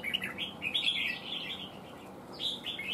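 Red-whiskered bulbul calling in a trapping and fighting setting, giving a quick run of bright chirping whistles, then a pause and another short burst, fairly close over faint background hiss.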